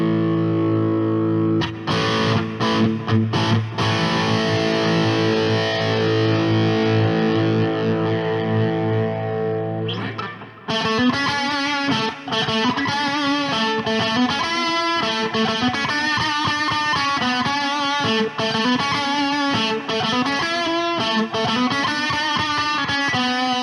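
Electric guitar played through a practice amp on a high-gain rock setting: a long, heavily distorted sustained chord rings for about ten seconds, then gives way to loud, driving chugged riffing that runs steadily to the end.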